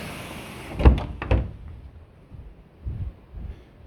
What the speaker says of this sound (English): Alright, let's close this door.